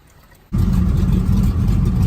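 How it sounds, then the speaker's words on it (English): A Ford Mustang GT engine, run after a coolant flush to clear water from the block, fires up abruptly after a quiet half-second and settles into a loud, steady, deep running rumble nearby. "Just running the engine again to get the water out of the block so it doesn't freeze"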